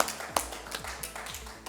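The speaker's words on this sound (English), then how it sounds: "A good round of applause for Rajuda." An audience claps for a speaker at a ceremony, light scattered clapping with a few sharper hand claps standing out at a moderate distance.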